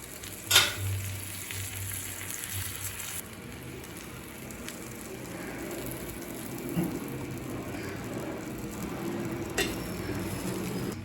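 Butter sizzling on a hot tawa while bread pizza cooks, a steady soft frying hiss throughout with a few faint clicks and taps, no talking.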